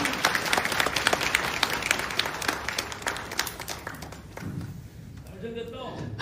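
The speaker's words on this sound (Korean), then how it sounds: "큰 박수 부탁드립니다." Residents at an apartment reconstruction briefing give a big round of applause, a dense, steady clapping crowd filling a hall for several seconds before fading into quiet room noise.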